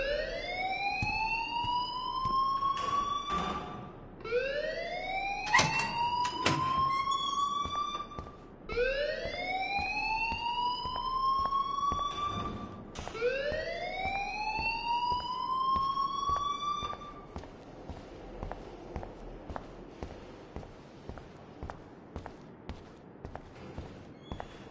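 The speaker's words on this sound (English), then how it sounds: "please turn off that alarm since that's your job" A repeating rising electronic alarm in the video game Life is Strange, whooping upward about four times in a steady cycle, loud and close, then giving way to quieter rhythmic ticking near the end.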